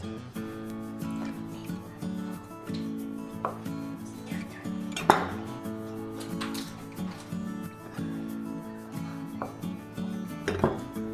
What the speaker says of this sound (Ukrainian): Відварені перепелині яйця розрізуємо на половинку і викладаємо на салат.